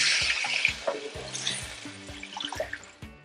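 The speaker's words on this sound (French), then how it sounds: "On ajoute encore de l'eau." Water being poured into a cooking pot of shrimp, a steady close splashing stream with bubbly gurgles and a few clunks of the pot, lasting a few seconds.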